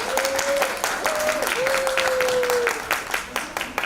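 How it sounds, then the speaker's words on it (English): Applause from the audience at a single mothers award ceremony, steady dense clapping throughout with a sustained whistle-like tone gliding over it, fairly loud and close. "Let us give her a round of applause."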